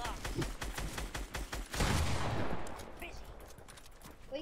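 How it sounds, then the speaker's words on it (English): Rapid gunfire in Fortnite Battle Royale, with a fast run of sharp, loud reports that gives way to a booming blast and its fading rumble, under a player's chatter. "You rocket launch, I'll shoot my shotty."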